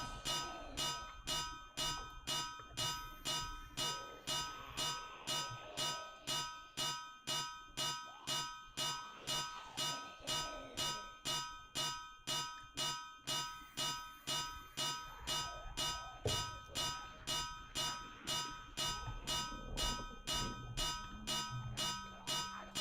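A hammer strikes a chisel over and over in the video game Deceasedcraft, a steady, metallic, ringing clang about twice a second. The strikes carry on evenly for over twenty seconds at a moderate level.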